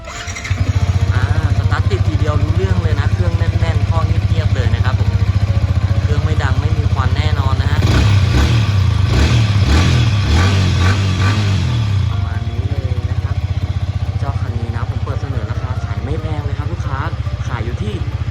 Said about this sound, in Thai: เรามาฟังเสียงท่อเดิมกันหน่อยดีกว่านะฮะ